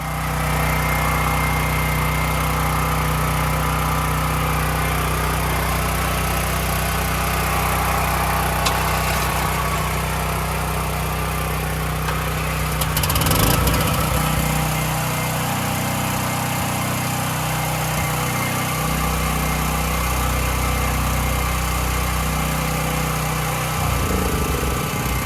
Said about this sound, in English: the generator shuts down